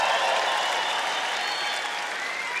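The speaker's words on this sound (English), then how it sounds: "Thank you for those of you applauding that." Comedy-club audience applauding a stand-up comic, a thick sustained roar of claps that stays loud and even throughout.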